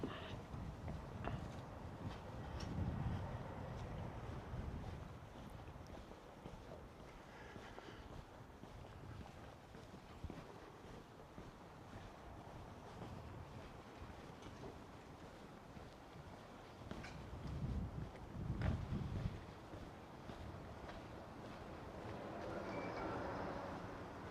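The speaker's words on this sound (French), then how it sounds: "Bon, beaucoup de vent, ça devient une habitude." Gusty wind in Morioka, Japan buffets the microphone in a continuous low roar that swells and eases, with no talking.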